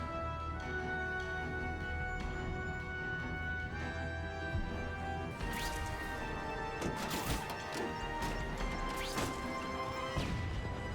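Fireworks in the Spider-Man video game, a burst of loud crackling explosions and sharp bangs in the second half over a steady music bed, close and without talk.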